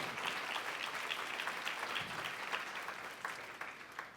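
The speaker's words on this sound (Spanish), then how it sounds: "Dale un aplauso al Señor con todo tu corazón" A church congregation claps wholeheartedly during a sermon, a dense continuous round of applause that holds steady and then tapers slightly at the end.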